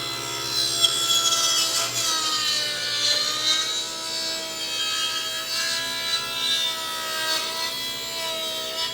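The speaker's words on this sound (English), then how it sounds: "our saw will be cutting through our board down here" Hand saw cutting through a wooden board along an L-shaped guide fence, steady rasping strokes running continuously and close for the whole stretch, with no talk.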